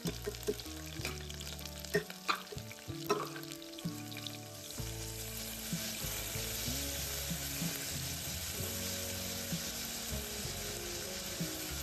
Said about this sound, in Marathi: तर लवंगच कांदा घालून घेतली आणि हे ठेचलेलं लसूण छान परतून घेऊया.